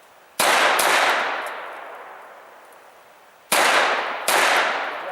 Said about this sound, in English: Load and fire, take one shot.